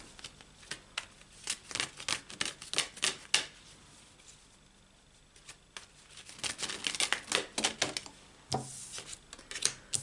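Tarot cards are shuffled and drawn in quick, crisp riffling bursts, close and fairly quiet, with a short lull in the middle before the flicking resumes.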